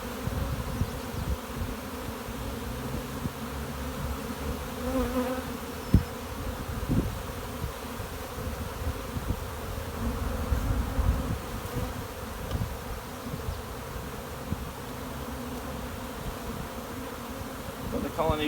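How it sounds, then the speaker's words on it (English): A big honeybee colony hums loudly while the hive is opened for inspection during splitting, a dense continuous buzz with occasional louder passes of single bees close by. "Bees are still staying calm"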